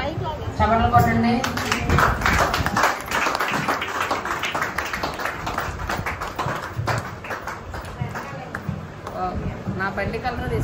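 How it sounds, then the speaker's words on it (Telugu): A church congregation claps along in a fast, steady rhythm during worship, the clapping heard under continuous talk and singing in a reverberant hall. "చప్పట్లు కొట్టండి"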